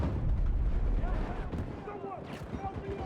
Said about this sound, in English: So many grenades.